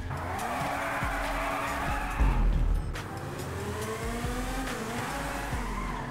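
A car in the video game GTA drives hard with tires squealing and skidding through turns, engine tones rising and falling, a louder thump midway, no talk.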